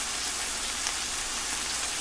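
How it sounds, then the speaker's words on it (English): Steady, dense rain hiss falling on a surface, continuous and even throughout, with no voices or other sounds. "Listen to the rain."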